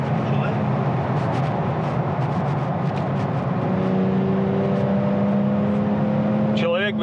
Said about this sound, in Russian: здесь просто шум от этого выхлопа.